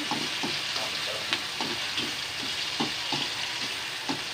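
Chopped tomatoes sauté in a pan for pork menudo, producing a constant crackling sizzle close up, with rhythmic scraping stirs of a utensil every half second or so.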